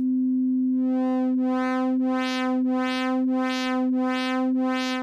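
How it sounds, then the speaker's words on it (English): A sustained tone from a Klavis Twin Waves MkII digital oscillator starts as a pure sine, then shape modulation adds pulsing bright harmonics, swelling and fading about every two-thirds of a second. "There's a sine wave with shape modulation,"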